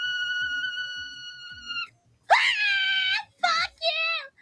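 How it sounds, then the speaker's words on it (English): A woman screaming while playing the horror game Resident Evil, long shrill kettle-like wails broken into several loud piercing bursts, with faint low sounds beneath. "God, that scream hurts."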